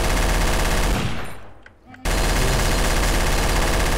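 Rapid automatic gunfire in the Garry's Mod Trouble in Terrorist Town video game, loud and continuous. It breaks off briefly into a short lull before the dense shooting resumes abruptly.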